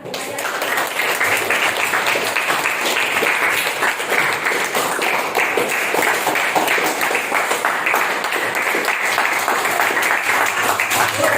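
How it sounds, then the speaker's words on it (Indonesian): A group applauds steadily at a school academic coaching and supervision session, dense, even clapping that stays loud and unbroken for about eleven seconds with little variation. "Sekarang tepuk tangan."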